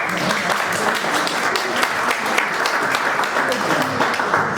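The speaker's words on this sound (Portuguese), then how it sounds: "Dá uma salva de palmas para ela também." Audience applause at a talk about Fabry disease, a loud, continuous clapping from a sizable crowd lasting several seconds.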